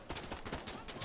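Gunfire in the tactical shooter Insurgency: Sandstorm, a quick burst of several sharp, loud shots in rapid succession at close range, lasting about a second.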